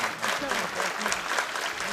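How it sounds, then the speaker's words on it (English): Crowd at a professional wrestling show in Perth cheering and applauding for both competitors, a steady broad roar of claps and shouts throughout, with a commentator's voice talking over it. "The crowd here in attendance rallying behind both competitors."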